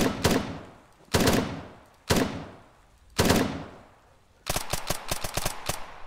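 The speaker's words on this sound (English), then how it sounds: "He's firing the shotgun." Shotgun blasts in a tactical video game: four loud, widely spaced booms with decaying tails, then a quick burst of rapid shots.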